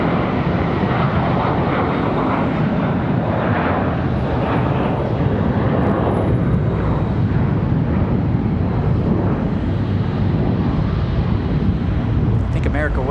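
Airliner jet engines at Charlotte Douglas International Airport rumble in a broad, steady roar with wind buffeting the microphone, loud and sustained throughout.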